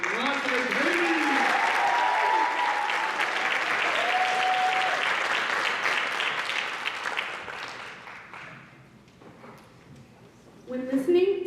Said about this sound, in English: Now let's give one more round of applause for Delonte Bailey.